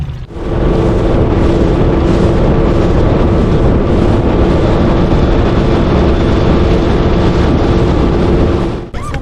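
An outboard motor on a bass boat heading upriver on Table Rock Lake drones steadily and loudly for the whole stretch, mixed with wind and water rush, then cuts off at the end; no talk.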